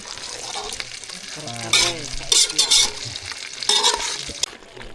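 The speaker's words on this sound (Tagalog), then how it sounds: "Halu-haluin" Food frying in a pan is stirred, with a low sizzle and bursts of scraping and clattering strokes, while a person speaks briefly in the middle.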